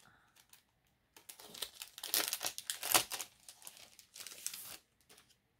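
A paper greeting-card envelope torn open and crinkled by hand, bursts of close, fairly loud tearing and rustling paper with short pauses between them and no talking.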